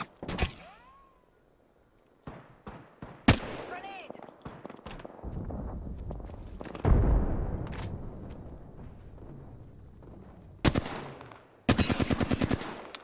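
Apex Legends gunfire: scattered single shots, then sharp close bursts of rapid automatic fire, with game sound effects between them.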